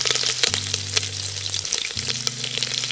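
Peppercorns and green chili pieces fry in hot oil for pongal, a loud, close, crackling sizzle that never lets up, with a low steady hum from a kitchen appliance underneath.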